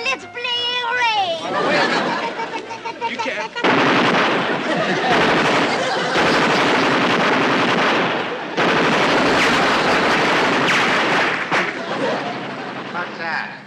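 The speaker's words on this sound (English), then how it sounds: "Sounds like machine gun fire, sir." Sustained machine gun fire echoes from an island in a 1960s naval sitcom, with dense, loud bursts rattling almost continuously for over ten seconds and voices mixed in.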